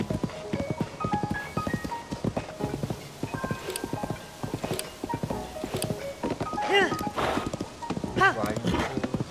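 Rhythmic hoofbeats of a horse clip-clopping at a quick pace in The Legend of Zelda: Tears of the Kingdom, with occasional whinnies and a voice speaking over it.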